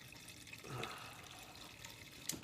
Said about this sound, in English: I fill that thing like halfway up with water